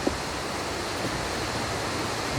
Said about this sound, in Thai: เป็นน้ำตกที่ แปลกนะครับ ไหลออกมาจากยอดเขานู่นนะครับ